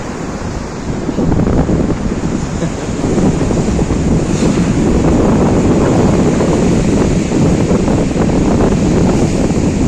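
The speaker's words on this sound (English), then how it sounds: "Last wave came in way further than all the others have just now." Waves breaking and washing up a beach on the Causeway Coast near Ballintoy, a loud continuous roar of surf with strong wind buffeting the microphone.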